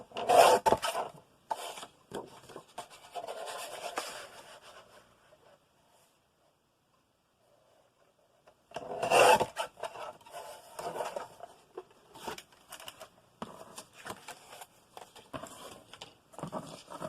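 Paper being trimmed at a score line while making a magazine memory book, heard as repeated close rasping, rubbing cuts in two bursts separated by several seconds of near silence.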